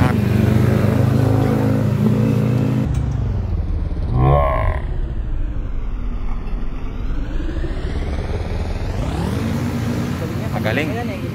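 Motorcycles passing on a road one after another, engines loud and close with a rising and falling whine as each goes by, over continuous broadband road noise and a voice talking.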